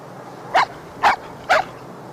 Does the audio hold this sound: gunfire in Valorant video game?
no